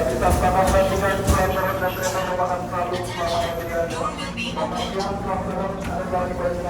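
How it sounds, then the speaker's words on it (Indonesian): A KRL commuter train pulls into Rangkas Bitung station, a steady low rumble of wheels and motors with metallic rattles and tonal whine, fairly loud and continuous throughout. "Jam 9 lewat 51 kereta sampai di stasiun Rangkas Bitung."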